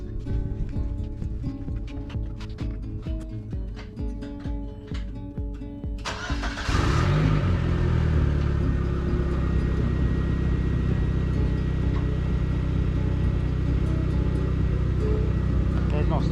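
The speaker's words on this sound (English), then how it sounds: "Now I gotta turn it on." Audi A4 B5 engine cranking and starting from cold, with a short burst of starter cranking before the motor catches and settles into a steady, loud idle hum that continues to the end.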